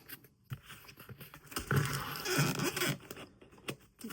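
A P38 can opener keychain tool cuts through material with a close, raspy scraping and tearing, a few quiet ticks first, then a sustained gritty rasp that fades back to small scratches, no talking.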